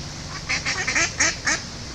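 Ducks and geese by a canal narrowboat, including small white call ducks, give a quick run of about six nasal quacks and honks, close and fairly loud with no talk.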